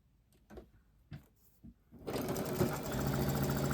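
A sewing machine stitches diagonal lines across a five-yard poppy cotton quilt, starting with a few short bursts and then running in a loud, steady continuous whir up close.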